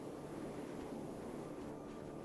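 Ocean surf rolling in Arma 3 as waves carry boats away, a soft continuous wash of water and wind-like rushing, fairly faint and steady with slight swells, no talking.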